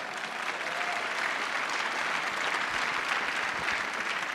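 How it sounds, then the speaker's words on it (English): An audience at a space symposium applauds a plan to land humans on the moon, a full, continuous round of clapping holding at a steady level from start to finish. "That deserves a round of applause"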